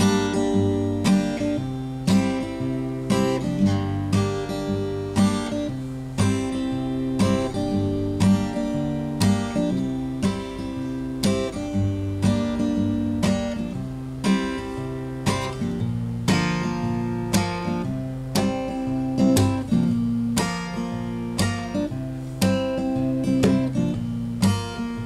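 Acoustic guitar plays the bridge of a song, strumming full chords in a steady, even rhythm. The instrument sounds close and continuous across the whole passage, with no voice.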